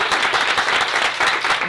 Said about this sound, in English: And I really want to clap for them.